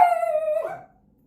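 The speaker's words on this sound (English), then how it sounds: "Pardon my dogs." A dog gives a single short howl close by, a clear steady tone lasting under a second that fades into silence, with no talking.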